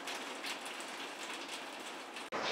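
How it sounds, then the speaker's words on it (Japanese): Steady rain falls outdoors near a clear river by a vine bridge, a dense, even hiss that stays constant throughout with a brief dropout near the end. "雨やのにな。"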